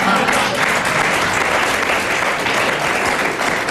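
Audience applause from a TV comedy show studio crowd, steady dense clapping sustained throughout, loud and close with some voices mixed in.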